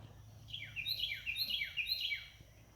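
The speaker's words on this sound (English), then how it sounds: "I hope the birds weren't too loud" Birds chirp beside a river in a quick run of bright, descending calls, repeated steadily for a few seconds, fairly close and clear over a low background hum.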